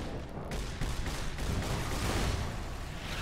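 Gunfire in the video game Fallout: New California, a dense, noisy burst of shots and rumbling blasts that runs continuously without pause.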